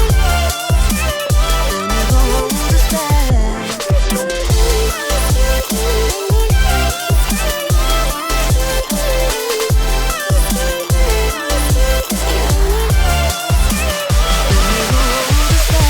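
The final section of the drop in an electronic track: a dense, loud full mix with punchy, steady kick drums, layered synths and effects driving continuously throughout.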